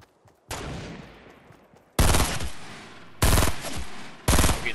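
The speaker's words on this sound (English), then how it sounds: "I'm getting shot at from the lake." Gunfire from enemies at a lake in a video game bursts out in loud, sharp volleys: a long rattling burst followed by three more heavy bursts, each cutting in abruptly and close.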